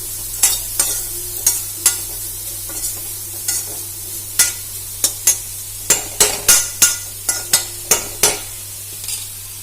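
A spoon scrapes and knocks against a pan stirring fenugreek leaves and carrot frying in oil, in repeated strokes that grow quicker, with a faint sizzle and a low hum underneath.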